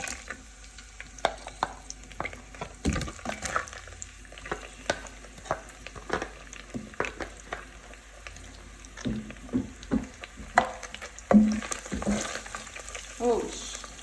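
Onions frying in oil for a minced meat and ham pasta sauce, a continuous sizzle punctuated by many sharp clicks and scrapes of stirring against the pan, close and fairly quiet.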